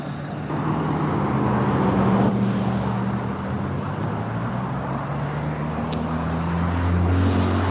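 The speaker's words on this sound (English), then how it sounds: "This truck's not running too well over here." Rough, uneven engine of a struggling truck idling nearby on a Yakima street, a steady low rumble with wavering tones, loud and continuous with no talk.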